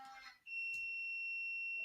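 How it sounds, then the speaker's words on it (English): A shrill, steady electronic alarm tone starts abruptly after a brief bit of sound and holds at a constant pitch, loud and close, with no one speaking over it. "Oh, alarm going off."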